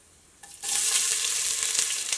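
Sliced onions drop into hot oil with bay leaf and fennel seeds in a pressure cooker for biryani rice, and a loud, steady sizzle erupts and holds, with faint stirring scrapes.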